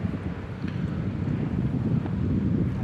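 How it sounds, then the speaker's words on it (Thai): Strong wind gusts on the Mekong riverbank at Nakhon Phanom in the first cold wind of the season, a continuous low rushing buffet against the microphone with no talking. "ลมแรงมากๆเลยนะครับ"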